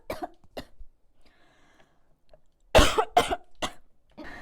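A woman coughs in short, sharp bursts, close to the microphone: two quick coughs, a quiet pause, then a tighter cluster of three or four harsher coughs in a quiet room.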